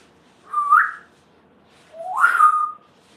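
A cockatoo whistles two separate calls, each a short rising then falling tone, clear and close, with a quiet pause between them.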